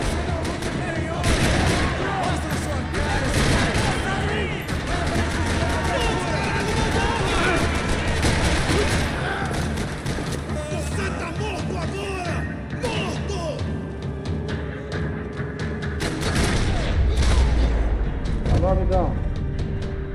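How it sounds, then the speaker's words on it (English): Gunfire in the video game Max Payne 3 rattles through a parking lot shootout, with dense, continuous shots, crashes and bursts mixed with game voices and talk throughout. "Another parking lot rattling with gunfire."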